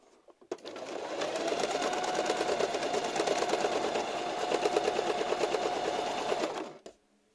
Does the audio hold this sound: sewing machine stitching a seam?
yes